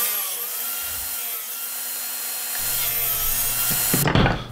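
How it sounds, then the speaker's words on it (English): A table saw runs steadily while cutting wood for a dowel-making jig, its loud whining hum staying constant before a harsher burst of blade contact near the end, with no talking. "cut with my table saw up to this line here, a little bit past it."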